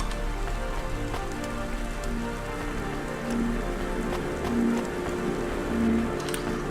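Steady rain pours in the rainy city of the video game Cloudpunk, a dense, continuous hiss of drops on surfaces that holds even throughout, with faint low tonal game sounds pulsing underneath and no talking.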